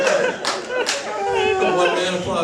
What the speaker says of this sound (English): The one-man applause break, I'll take it.